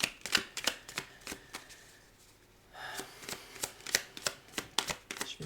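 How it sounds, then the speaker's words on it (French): Oracle and tarot cards being shuffled and drawn by hand, a rapid run of crisp riffling flicks and taps, close and fairly loud, with a short pause midway before the shuffling resumes. "je vais tirer une petite carte de fin"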